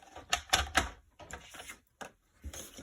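A paper cutter slicing through card or paper for a box drawer project, a series of sharp crunching cuts and clacks in quick bursts with short pauses between them.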